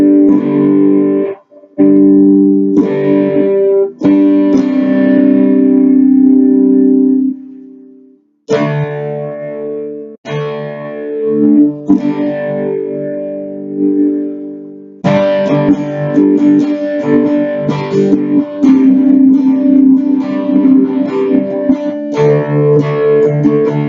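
A 1994 Made-in-Japan Ibanez RG550 electric guitar in Desert Sun Yellow, played through the neck pickup with effects and distortion, rings out in sustained chords and riffs, with brief pauses between phrases.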